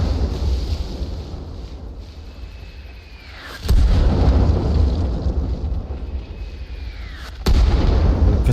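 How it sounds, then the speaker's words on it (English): Mortar fire in the Arma Reforger video game during a competitive 20 vs 20 match: two heavy, booming impacts a few seconds apart, each preceded by a falling whistle, over a constant rumbling background. "goblins out of nowhere with the mortar fire."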